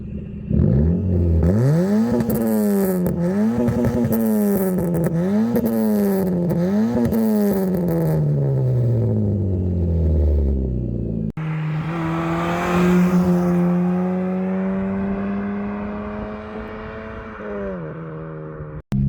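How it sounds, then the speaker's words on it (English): An engine-swapped Ford car's exhaust revs up and down in repeated surges, then holds a steady high drone before cutting off; loud, close, no talking. "What do you say we get a quick exhaust clip, see how that sounds?"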